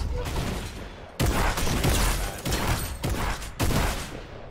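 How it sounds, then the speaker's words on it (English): Repeated shotgun blasts from the new shotgun in Fortnite, four or five loud booming shots spaced about a second apart in the midst of dense game noise, with a player talking over the gunfire. "I think the new shotgun's fine as long as we're aiming it."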